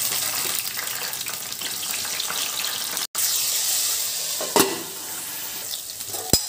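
Crabs frying in oil for a crab curry give off a continuous loud sizzle and crackle, with a brief dropout midway and a couple of sharp clinks or knocks of utensils against the pan.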